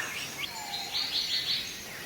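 Satin bowerbird calling, a series of thin buzzy and whistled notes at moderate distance over a quiet outdoor background, with no voices.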